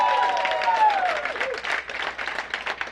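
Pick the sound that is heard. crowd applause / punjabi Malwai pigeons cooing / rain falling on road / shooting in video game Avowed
crowd applause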